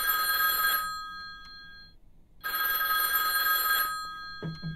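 Telephone ringing in the horror video game HellSeed, two long bursts of a bright electronic bell separated by a short silent gap, loud and alone with no voices over it.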